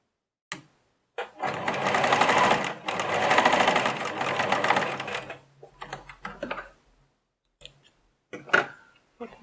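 A domestic sewing machine stitches a zipper into a key holder project in two sustained bursts, close and loud, followed by scattered clicks and short taps as the work is adjusted.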